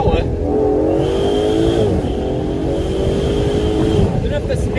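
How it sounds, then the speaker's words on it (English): An Aston Martin DBS Superleggera Volante in Sport Plus mode drones with a loud, steady exhaust note whose pitch rises and falls as it accelerates. A voice talks over it. "I love the sound out of the exhaust"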